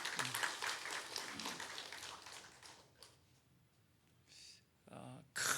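Church congregation at a Sunday afternoon service claps for the vision center committee, a dense burst of applause that fades out by midway, followed by quiet and a few short voices.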